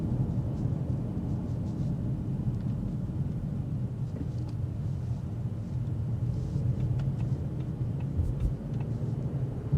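Steady low road rumble and muffled wind noise inside a 2026 Audi SQ5 Sportback cruising at higher speed, a constant subdued drone with faint higher hiss and no speech.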